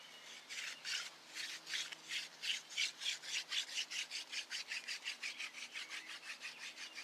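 Hand drill friction fire-making, a horseweed spindle spun against a sycamore board, gives a steady rhythmic rasping rub, about four strokes per second, close and moderately loud with no talking.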